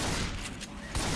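Rapid gunfire from the zombie shooter Left 4 Dead 2, a dense, loud burst of shots that runs steadily through the whole second with a sharper blast near the end.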